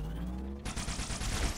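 Rapid grenade launcher fire in Halo: Spartan Strike, a dense burst of booming shots and blasts that begins abruptly after a low rumbling hum, loud and continuous.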